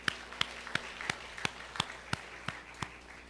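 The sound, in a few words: church congregation applauding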